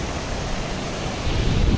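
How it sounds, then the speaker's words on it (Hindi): Water gushing out of a tunnel in a mountain setting, a dense, steady roaring rush with wind-like noise, loud and continuous with no voices. "और एक ये सुरंग में से पानी आ रहा है"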